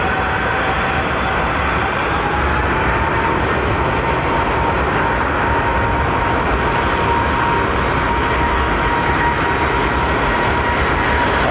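A jet airliner's engines spool up into a loud, sustained roar at Heathrow Airport, a broad steady rumble with a faint whine that holds for the whole stretch, with no talk over it.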